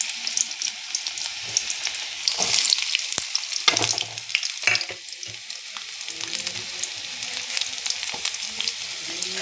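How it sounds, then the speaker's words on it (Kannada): Mustard seeds and onions frying in hot oil, a loud crackling sizzle with bursts of popping and spoon scrapes, tapering into a steadier hiss over several seconds, no speech. "ಇವಾಗ ಸ್ವಲ್ಪ ಸಾಸಿವೆನ ಹಾಕ್ತಿದ್ದೀನಿ ನೋಡಿ. ಅದಾದಮೇಲೆ ಸ್ವಲ್ಪ ಆನಿಯನ್ಸ್ ಹಾಕ್ಕೊಳ್ತಿದ್ದೀನಿ."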